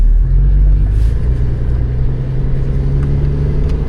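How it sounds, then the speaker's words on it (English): An old Toyota Troop Carrier's engine revs in low range on a beach, a loud, close, steady low rumble that holds for several seconds with no talking. "Do I need to rev it harder?"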